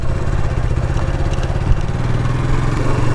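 A TVS Apache RTR motorcycle rides along, its engine giving a loud, steady, close mid-pitched drone with constant road and wind rumble and no pauses.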